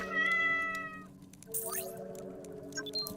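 Cats in the dungeon crawler The Great Abyss let out a long, loud meow and then quicker squeaky cries, close-up over a droning background with no talking.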